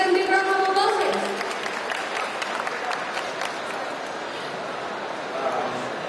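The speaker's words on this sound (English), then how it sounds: "Please give them big round of applause." A crowd applauds at the SPARC 12 event to welcome the co-founders of Burger Lab, a dense, sustained clapping that starts strongest and tapers slightly, mixed with some background crowd noise.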